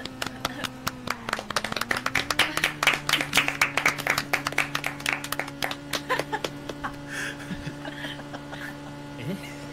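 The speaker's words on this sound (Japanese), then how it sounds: "これ 拍手終わったの" A steady round of clapping from a small group, the claps tapering off near the end while voices and light laughter carry on beneath.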